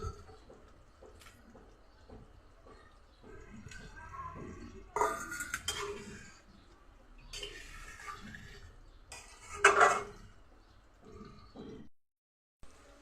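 Paneer pieces go into a yogurt curry in a pan over lowered heat, giving soft clinks and scrapes of utensil on metal with a brief splashy clatter, fairly quiet and without speech.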